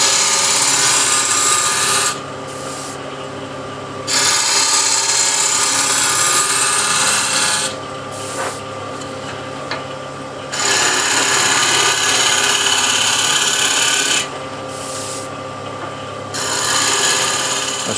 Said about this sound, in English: now I can refine the surface up to that foot with scraper